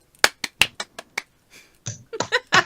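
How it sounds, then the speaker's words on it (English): A soft, polite golf clap: about seven sparse, crisp hand claps in an uneven rhythm, close and alone, followed by a brief burst of quick talk. "Golf clap."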